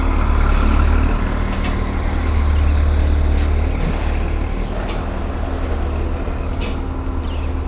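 A Haryanto intercity bus, HR 198, departs from the Pasar Sayur Cipulir agency in the morning, its loud diesel engine rumbling steadily up close with a hiss of air and traffic noise around it.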